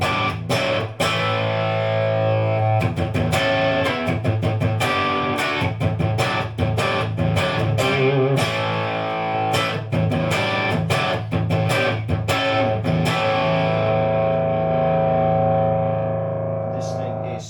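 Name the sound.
distorted electric guitar through restored Kelly 50 guitar amplifier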